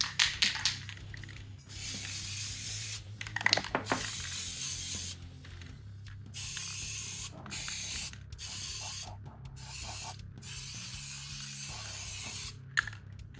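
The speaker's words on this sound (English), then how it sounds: "Spray at the front, then turn them all around." An aerosol spray can hisses out undercoat primer onto miniature models in repeated bursts of varying length, separated by short pauses and faint handling clicks, close and clear with no talking.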